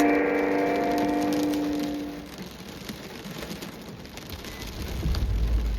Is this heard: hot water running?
no